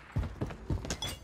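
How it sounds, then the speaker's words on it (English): Weapon reload in Call of Duty: Modern Warfare III multiplayer: a few close mechanical clicks and clacks of a fresh magazine being seated, short and fairly quiet, with no talk. "Loading fresh mag."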